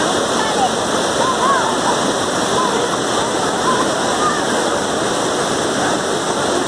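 Santana waterfall in São Carlos pours in a steady, dense roar of rushing water, broadband and constant throughout, with faint voices in the background.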